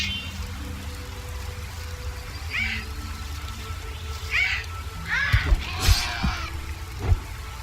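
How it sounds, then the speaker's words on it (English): Heavy rain falls in the video game Gothic 2, a steady wash of patter with a few sharper splashes and chirping cries over it, moderately loud and continuous. "it's raining quite heavily"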